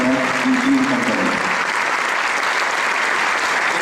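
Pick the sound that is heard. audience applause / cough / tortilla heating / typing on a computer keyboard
audience applause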